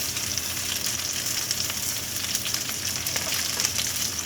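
Tofu cooks in a covered pan with soy sauce and water, giving off a steady close sizzle and crackle of frying and steaming that holds evenly throughout.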